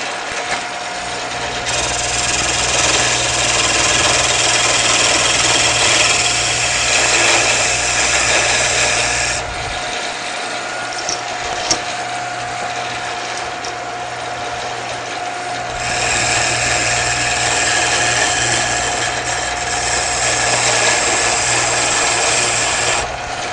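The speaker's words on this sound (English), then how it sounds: "when you're doing lathe turning, it just throws the chips everywhere" A Shopsmith lathe turning wood tapers gives a loud, steady motor whine with cutting noise layered on top. The cutting eases off and returns in two long passes, with no talking.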